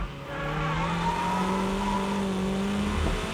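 A Toyota MR2 drift car brakes into a corner, its steady engine drone holding close and loud with a faint edge of tire noise throughout, no voices.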